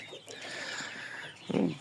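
Chickens' chicks in a brooder chirp and peep in a continuous high chatter, close by, with a brief low rustle or thump near the end.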